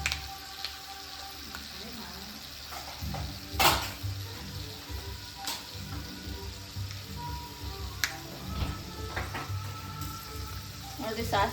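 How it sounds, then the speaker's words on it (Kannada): Mustard seeds popping and crackling in hot oil with roasting peanuts, for avalakki (poha); a steady sizzle with scattered sharp pops and spatters, a louder burst near the middle, with occasional faint voice. "ಸಾಸಿವೆನೂ ಚಟಪಟ ಮಾಡ್ಯಾವ"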